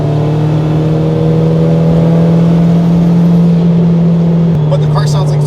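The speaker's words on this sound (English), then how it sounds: "But the car sounds like it's running good though." A loud, steady turbocharged car engine drone holds at a constant pitch close by, dipping slightly near the end with faint clatter.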